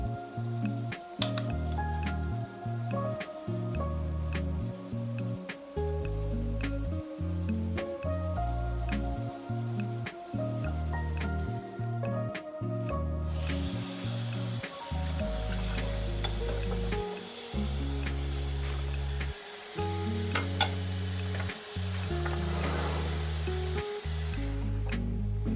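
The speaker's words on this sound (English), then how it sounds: "All right, let's add our onions." Chopped onions hit a pan of browning ground beef and garlic, cooking for a trifle, and a steady hissing sizzle builds under loud background music.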